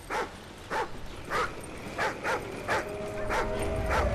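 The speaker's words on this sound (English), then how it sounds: "What's he barking at?" Riley, the German Shepherd companion in Call of Duty: Ghosts, barks and yips in short sharp bursts, about eight spaced barks over a low steady game ambience.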